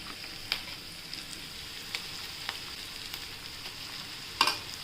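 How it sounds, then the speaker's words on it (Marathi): Ground corn paste sautéing with onion and coriander in a pan for corn upma, a soft even sizzle broken by a few sharp spoon taps and clinks, one louder knock near the end. "थोडं परतून घेऊ"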